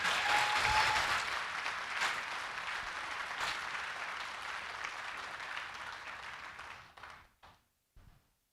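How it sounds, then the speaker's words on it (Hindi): An audience applauds at a Hindi poetry recital, a mushaira. The clapping is dense and sustained, then thins out and ends in a few scattered final claps. "तालियां कमजोर है"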